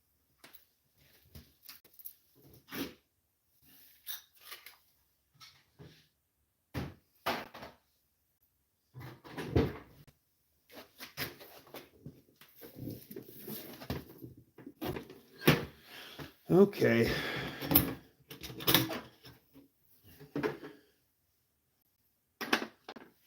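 Metal drawers of an SK toolbox slide and clatter in a run of irregular bumps and rattles, near and moderately loud, with a brief spoken word and long quiet gaps between the clunks.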